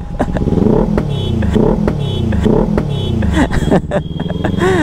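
A Kawasaki Ninja ZX-10R motorcycle engine revs and rumbles up close, punctuated by repeated sharp exhaust pops and crackles in an uneven rhythm.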